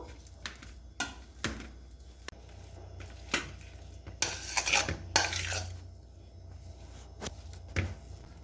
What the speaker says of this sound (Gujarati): હવે એને આપણે બરાબર દબાવી અને એનો માવો બનાવી દઈશું।